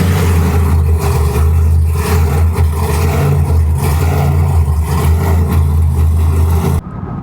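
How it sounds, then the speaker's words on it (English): A Ram TRX pickup truck's engine on a cold start gives a loud, deep, steady rumble close by, then cuts off abruptly near the end. "So let's get a nice little cold start on the car,"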